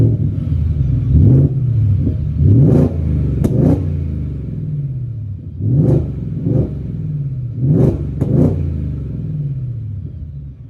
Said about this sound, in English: try to record a little bit of revs. Again, the exhaust valves should be technically open